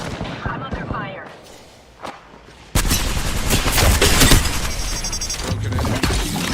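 Gunfire in the Apex Legends video game, starting with scattered shots and then erupting into a loud, dense, continuous barrage of rapid automatic fire.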